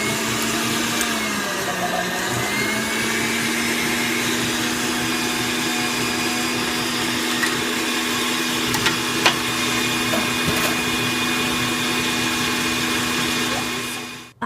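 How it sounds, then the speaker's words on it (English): A KitchenAid stand mixer whips egg whites on high speed in a home kitchen for a rolled cake, giving a loud, steady motor whir that runs unbroken and close throughout, with a brief pitch dip early on. "after you beat them for about, on a high speed, if you have like this standard mixer, about 2 minutes"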